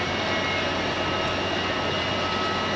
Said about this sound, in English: KLM 737. We had the Embraer yesterday, we've got the 737 today.